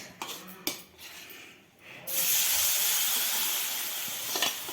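Oil dropped onto a dosa on a hot pan bursts into a loud, steady sizzle after a few soft taps and a brief quiet moment, hissing continuously to the end.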